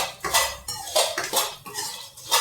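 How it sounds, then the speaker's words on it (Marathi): Edible gum (dink) roasting in a pan for Janmashtami ladoos, heard as repeated scraping and clinking of a utensil against the pan in uneven strokes, close and moderately loud with no talk. "तर या पद्धतीने मी डिंक भाजते."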